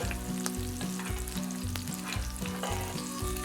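Crab meat and corn fritters fry in a pan, giving a close, steady sizzle and crackle of hot oil with a low rhythmic pulsing beneath it and no voices.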